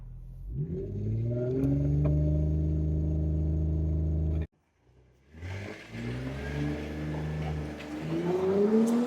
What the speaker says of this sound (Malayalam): അപ്പം നമുക്ക് ബൂസ്റ്റ് ലോഡ് ചെയ്യുന്ന കാണിച്ചു തരാം.